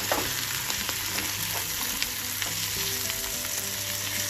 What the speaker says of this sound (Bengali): মোটামুটি ভাজা হয়ে গেল, এখন মাশরুমগুলোকে হাঁড়িতে দিয়ে দিই